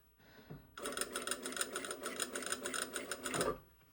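A sewing machine stitches a facing onto a bodice in one continuous close run of rapid rattling needle strokes lasting about three seconds, preceded by a brief soft rustle of fabric.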